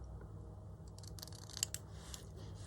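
Scissors snip through scrap paper during card and tag making, a quiet run of short crisp cuts with a couple of sharper snips near the middle, no talking.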